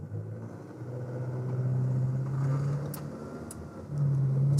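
A Sprinter van steered by joystick pulls away with a low engine hum and rumble that rises and falls as it moves off, with a few faint clicks over the top.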